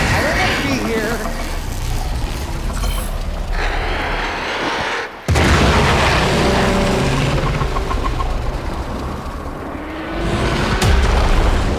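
In Warframe, a deep booming explosion rumbles under a continuous heavy engine-like roar, loud and dense, with a brief drop to near silence midway before the rumble resumes, and game voices speak over it.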